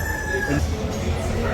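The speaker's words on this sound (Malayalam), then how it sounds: "എന്താ കോഴി ഇത് ബ്രഹ്മ പോലും ബ്രഹ്മ" A large Brahma chicken clucks and crows close by amid a steady low rumble of background noise, at a pet carnival in a Kochi mall.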